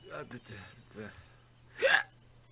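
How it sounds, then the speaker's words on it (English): A single sharp hiccup from a man pops out after some muffled talk, brief and fairly loud against a quiet indoor background. "Sorry, I got hiccups."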